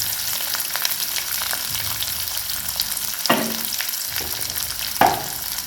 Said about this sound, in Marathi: कांद्याला छान परतून घ्यायचं आहे 2 मिनिटं